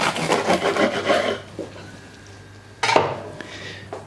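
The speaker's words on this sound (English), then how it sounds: "let's cut this thing in half" A knife saws through a rib-eye steak sandwich, giving a close rasping, scraping cut for about a second and a half, then a quiet pause before a sharp crunch and a further burst of scraping near the end.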